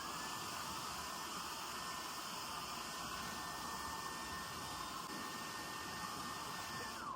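A hair blow dryer runs steadily while drying and setting step-cut hair at home, a constant close whooshing roar with a faint motor whine, alone and unbroken throughout.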